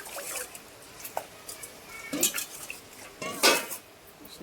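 A spoon stirs rice in a pot with spinach masala, making scattered close metallic clinks and scrapes against the vessel in an irregular rhythm, with a few louder knocks near the end.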